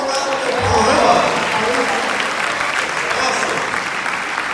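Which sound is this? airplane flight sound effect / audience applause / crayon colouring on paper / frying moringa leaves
audience applause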